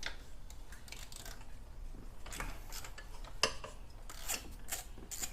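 A 10mm socket working the bolt off the front driver's side spark plug coil pack on a Dodge Hellcat, with close, soft rasping ratchet clicks and a single sharper metallic tick, no talking.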